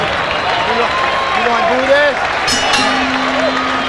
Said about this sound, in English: The crowd take to their feet and applaud the display that Bernard Hopkins has put on in this world middleweight fight.